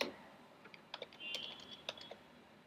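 Typing on a computer keyboard while writing nested CSS rules, a quiet run of light, irregular key clicks with a few brief pauses.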